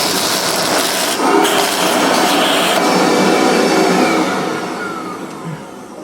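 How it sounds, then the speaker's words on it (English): A shop vac roars up close, sucking coffee beans out of a Mazzer Major commercial grinder, with a steady loud whoosh and occasional rattles of beans before the suction gradually tapers toward the end. "Handy little shop vac."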